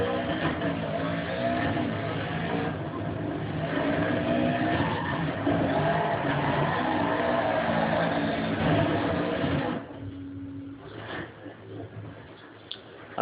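Car engine revving hard while drifting at over 95 mph through a gymkhana course in the Dirt 3 video game, a loud sustained roar with skidding tires that drops off sharply near the end.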